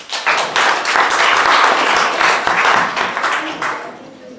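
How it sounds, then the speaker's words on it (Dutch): An audience claps at a cultural salon evening, a dense, steady wash of many hands clapping at close range that holds for about four seconds before thinning out toward the end. "Applaus voor Marleen Wax."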